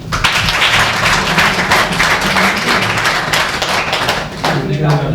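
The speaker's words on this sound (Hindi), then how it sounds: "पक्का इनके लिए तालियां" An audience at a national water-mission trainers' programme breaks into dense, sustained applause, many hands clapping together loudly with voices mixed in.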